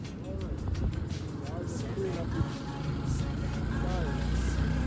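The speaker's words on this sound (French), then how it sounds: "Ça fait plaisir un petit tour de moto là." A motorcycle rolls along a road in Senegal with a steady engine and road rumble, wind noise washing over it and faint voices underneath.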